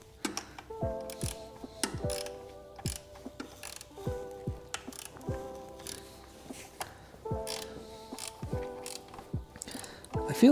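A ratchet wrench tightens a bolt in repeated short strokes, each one a rapid burst of metallic clicks followed by a brief pause, close and clear in a quiet space.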